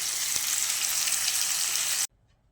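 Curry cooking in a pan gives off a loud, dense, continuous sizzle for about two seconds before cutting off abruptly into near silence.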